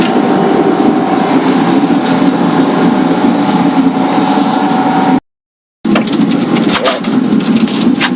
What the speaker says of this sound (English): Just prying that the rest of that skin off.